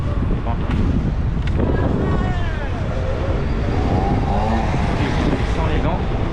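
Strong stormy wind roars and buffets the microphone during a scooter ride from Monaco to Nice, a loud, constant rushing noise with a voice talking faintly beneath it.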